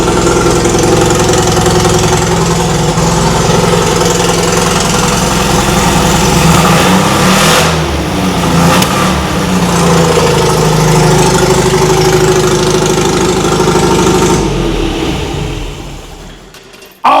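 A 1974 MGB GT engine runs loud and close, idling roughly with an uneven, chugging misfire as though not firing on all four cylinders, holding steady throughout before cutting off at the end.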